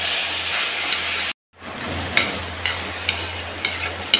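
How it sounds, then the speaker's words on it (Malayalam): Chopped jackfruit stem in curry masala sizzles and hisses steadily in a pan while being sautéed, close and loud, with a brief silent gap before the frying resumes alongside scraping stir sounds. "ഇത് ബ്രൗൺ നിറമൊക്കെ ആവുന്നിടം വരേക്ക് നമുക്കൊന്ന് വഴട്ടാം."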